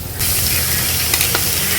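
Chopped garlic frying in a little oil in a wok, a loud, dense sizzle that bursts in suddenly and holds steady, with faint stirring scrapes, no voices.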